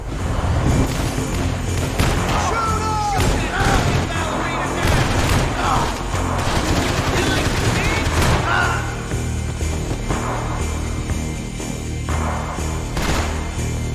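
Rifle fire from the video game Max Payne 3 booms in dense, continuous bursts, mixed with game sounds and voices speaking throughout.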